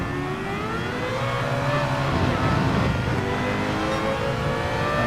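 A Gran Turismo 7 R92 CP race car engine roars loud and close, its pitch climbing and falling through shifts in a continuous high-revving howl during a daily online race.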